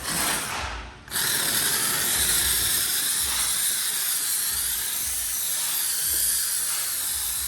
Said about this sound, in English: I'm going to steam the whole area.